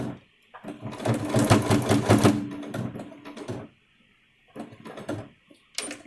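A sewing machine stitches a fabric channel for a face mask nose wire in two quick bursts, a long rapid run of close needle clatter, a pause, then a shorter run.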